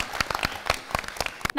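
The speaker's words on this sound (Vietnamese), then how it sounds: "Chúng ta cùng vỗ tay tiếp cho các bạn đi nào." Applause from an audience after a Vietnamese dance medley performance, made of loud, sharp, separate claps in an uneven rhythm that sound close and quite sparse over about a second and a half.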